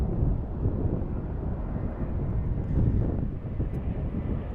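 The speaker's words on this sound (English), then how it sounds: "next up, we've got Spirit Airlines and A320" A Spirit Airlines Airbus A320 at DFW International Airport gives a steady, broad jet roar, moderately distant, with wind buffeting the microphone throughout and no talk.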